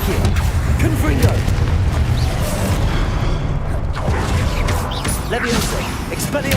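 Confringo fire spell blasting in Hogwarts Legacy combat, a loud booming burst buried in dense, continuous battle noise with crashes and impacts throughout.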